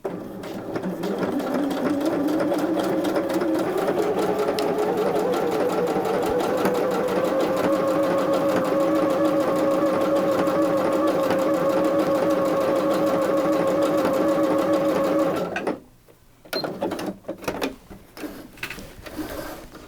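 A sewing machine stitches an overcast edge on fabric, humming steadily and loudly at close range as its motor gradually speeds up, then stopping after about fifteen seconds, leaving a few faint handling clicks.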